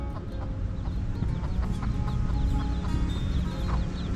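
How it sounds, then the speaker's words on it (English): Chickens and chicks cluck steadily against a busy outdoor park background in Kahului, Maui, with a few brief higher calls scattered throughout and no talking. "we have chickens and chicks."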